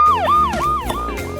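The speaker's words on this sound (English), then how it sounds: "A fire truck." A fire truck siren sound effect wails in a repeating rise-and-fall pattern, about three loud, close sweeping cycles in quick succession.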